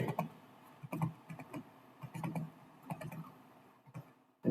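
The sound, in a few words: typing on a computer keyboard in Excel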